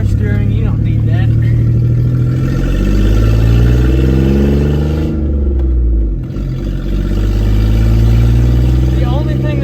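A flex-fuel 3.0 pickup truck engine drones steadily while driving on a road, pitch rising and falling with throttle and a brief dip mid-way, close and loud with a voice talking over it.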